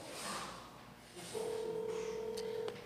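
A phone call to a blocked number rings out: a steady electronic ringback tone holds for over a second after a faint lead-in, then cuts off.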